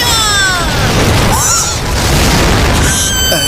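A loud, sustained anime-style explosive blast from a fire attack fills the whole stretch, with crackling bursts and whooshing tones layered over a dense roar.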